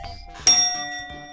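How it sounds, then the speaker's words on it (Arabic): A bell struck once, ringing out with a bright metallic ding that decays over about a second, following a short low clatter; no talking. "أضرب لك جرس"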